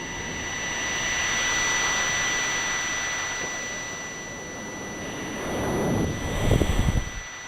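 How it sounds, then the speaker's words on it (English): A turtle in the Sega Saturn game Magic Knight Rayearth roars like a jet engine, a steady loud whine with a high tonal hiss that swells near the end, heard alone. "Why does the turtle sound like a jet?"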